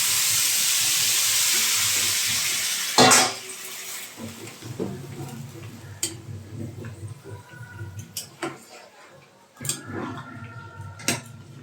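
Hot water goes into a sizzling pan of lentil and banana-stem curry. A loud steady hiss of frying and steam runs for about three seconds and then cuts off sharply, leaving softer bubbling with scattered clinks of metal utensils against the pot.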